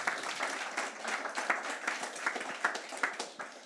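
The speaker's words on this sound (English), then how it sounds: "So let's give them a massive round of applause." Audience applause at a retrofit building event, steady broadband clapping from a crowd across the whole stretch, moderately quiet and somewhat distant, with no talking over it.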